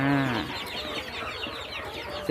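Native and black baby chicks kept loose together chirp in a dense, overlapping chorus of high peeping calls close by, with no talk.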